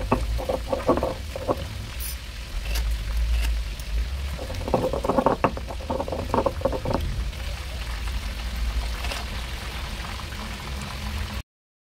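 Roasted tomatoes and chiles being ground in a stone molcajete, with repeated wet, gritty crushing and scraping strokes in uneven bursts, close and moderately loud.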